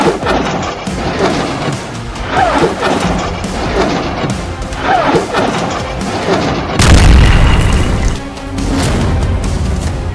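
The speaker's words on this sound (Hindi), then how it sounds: "लेबनान की तरफ से इजरायल के सैन्य ठिकानों पर जबरदस्त हमला हिजबुल्लाह ने किया है" Explosions from a Hezbollah rocket attack launched from Lebanon on Israeli military positions come as repeated loud, rumbling booms, with a heavier, deeper blast partway through before the rumble continues.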